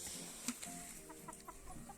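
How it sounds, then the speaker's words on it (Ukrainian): Chickens cluck in short bursts around a farmyard, with one sharper squawk early on, moderately close. "Ох і курочки"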